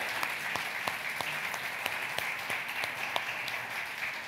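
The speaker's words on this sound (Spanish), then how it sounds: "te animas a dar un aplauso grande al nombre del Señor" Applause from a church congregation during a sermon, a steady roomful of hands clapping with sharper individual claps standing out, moderately loud and continuous throughout without talk over it.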